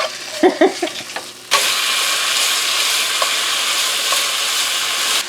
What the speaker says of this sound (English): listen to this sizzle of bacon